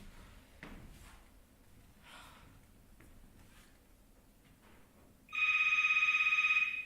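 A phone rings from inside a bag, a bright electronic trill that starts abruptly after some quiet shuffling and thuds and continues steadily, close by and clearly louder than the background.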